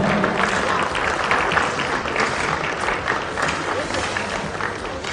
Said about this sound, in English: One more applause for medal winners in this final.